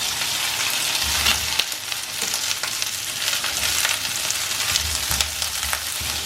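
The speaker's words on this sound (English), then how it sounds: "So here the oil is very hot. We'll just put the finely cut spring onions into this." Finely cut spring onions fry in very hot oil, giving a loud continuous crackling sizzle with sharp pops and low rumbling stirring noises throughout, no voices.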